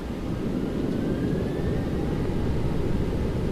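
Boeing 737-900ER jet engines in X-Plane 11 at forty percent throttle lined up on runway 27 right, a loud steady roar with a faint rising whine, no talking.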